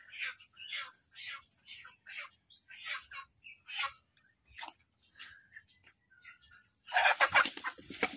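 Chickens clucking close by, a series of soft, irregular clucks over a faint steady insect drone, ending in a louder flurry of squawking.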